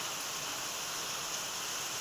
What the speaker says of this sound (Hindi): पानी तो बहुत अच्छा ही गिर रहा है।